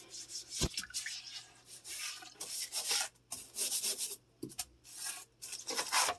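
Stiff scrub brush scrubbing a surface during household cleaning, in repeated rough bursts of bristle rasping with brief pauses between strokes, close and fairly loud, with no talking.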